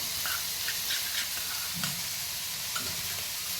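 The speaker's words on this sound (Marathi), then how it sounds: "थोडी परतून घेऊया." Chigal and barik ghol greens, wild monsoon vegetables, sizzle steadily in a pan as they are stirred and sautéed with crushed peanuts, with soft scraping clinks of the spoon over a continuous frying hiss.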